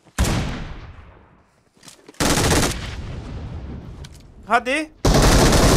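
Bursts of automatic gunfire ring out in a PUBG Mobile one-man-squad match, with three loud separated volleys and a short excited voice between the last two.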